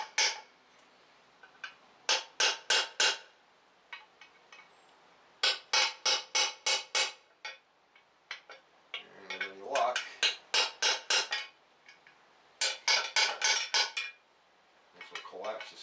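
A hammer taps a chisel against the engine seal of a 2006 Hummer H3 with the 3.5 five-cylinder, during balance shaft chain work. Crisp metallic taps come close and loud in quick bursts of four or five, separated by short pauses.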